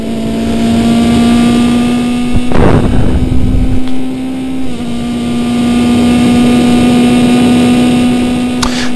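A Super Vee Formula 2.0 race car at about 135 mph through turn 9 at Willow Springs gives off a loud, sustained engine drone with a steady pitch, broken briefly by a rough burst of noise before the tone settles again.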